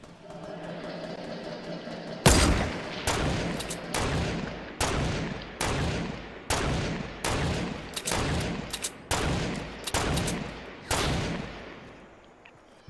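Sniper rifle gunfire in Fortnite: about a dozen loud, sharp reports fire in a steady rhythm, each with a short trailing decay, over a faint game background.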